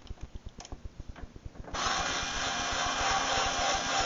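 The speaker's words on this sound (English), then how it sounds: "we'll be using a driver, which is a little bit quicker" A power driver backs screws out of a Whirlpool washer: a rapid ratcheting clatter for a second and a half, then a steady loud whirring spin, close up and without talk.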